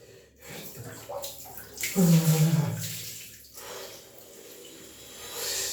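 Water sloshing and splashing as a person shifts their body in a cold bath of about 13 to 14 degrees, with a louder surge of movement midway, a faint voice sound, then quieter lapping.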